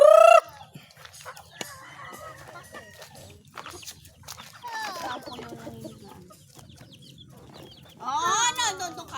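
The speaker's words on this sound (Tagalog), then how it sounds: "Ayan, papakain na kami ni Ram ng manok." Chickens cluck and call at feeding time on a farmyard, with a rooster-like crow among the fowl; the birds are near and moderately loud, with a louder burst of squawking near the end and someone talking in Filipino over them.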